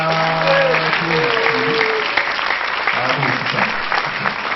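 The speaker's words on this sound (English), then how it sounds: "I just thought we should give him a very big round of applause." Audience applause breaks out for the Oba of Lagos on his 30th year on the throne, a dense steady wash of clapping throughout with crowd voices mixed in.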